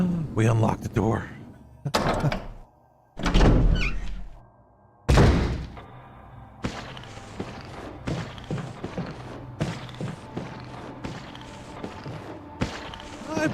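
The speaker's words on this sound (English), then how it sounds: "We unlocked the door." In a Resident Evil video game, a door is unlocked and opened with a few heavy thunks and clunks. A voice talks over much of it and game ambience runs underneath.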